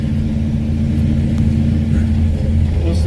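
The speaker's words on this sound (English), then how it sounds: "I can't tell if it's idling high or that's just my ears ringing." A 1957 Chevrolet Bel Air engine idling, a loud, steady low rumble close by with a faint hum on top and no clear rise in revs.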